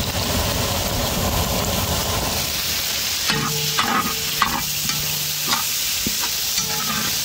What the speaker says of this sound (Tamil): இஞ்சி பூண்டு சேர்த்து ஒரு 200 கிராம் இப்போ போட்டு மிக்ஸ் பண்ணிக்கிறோம்